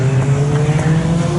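Caterham CSR race car, a 2017 model with a 2.4 litre engine, holding a loud steady engine note with a strong low drone throughout, the sustained roar of a car under way on a circuit.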